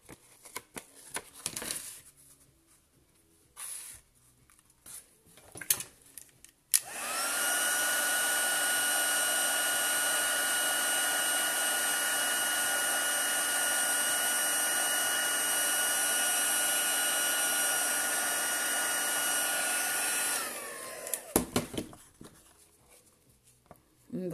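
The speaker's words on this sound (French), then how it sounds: "sortir le sèche-cheveux" A hair dryer heats embossing powder for a metallic effect, blowing in one loud steady whoosh for about fourteen seconds before cutting off, with soft handling clicks and rustles before and after.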